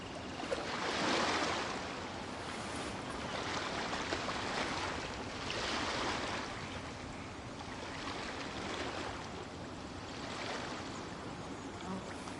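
Ocean waves in the video game Genshin Impact wash in steady broadband surges that swell and recede every few seconds, continuous and moderately loud with no voices.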